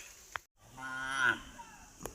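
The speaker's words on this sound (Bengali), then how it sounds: "বলো তো ভেড়াটা কি বলছে" A single sheep bleats once in a drawn-out call, faint and at a moderate distance, in a quiet outdoor riverside setting in the Sundarbans.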